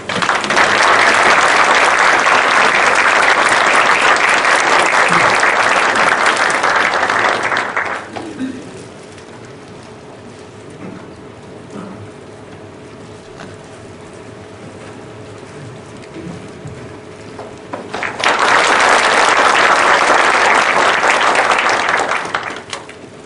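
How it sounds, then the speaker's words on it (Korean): Loud, dense applause from a lecture audience at a public humanities talk hosted by Changwon court, welcoming Professor Lee Su-jeong, lasting about eight seconds, dropping to a quiet room hush, then rising again into a second strong burst. "귀한 시간 내셔서 좋은 강의를 해주실 이수정 교수님을 뜨거운 박수로 맞이해 주십시오"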